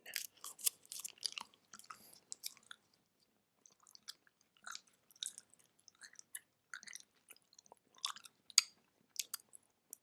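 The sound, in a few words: chewing gum, ASMR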